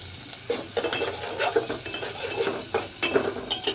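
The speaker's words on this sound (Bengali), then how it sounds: "এখন পেঁয়াজ দিয়ে বাগার দেবো, আজকে পেঁয়াজ দিয়ে বাগার দেবো।" Onions fry on a low flame to temper dal, a soft sizzle broken by frequent rhythmic spoon scrapes and metallic clinks against the pan.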